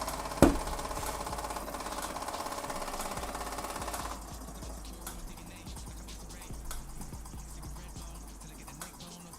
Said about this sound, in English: It's a working steam engine.